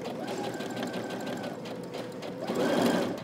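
Steady, close whirring of a sewing machine stitching a folded pant hem, running continuously and swelling slightly louder near the end, with no talk.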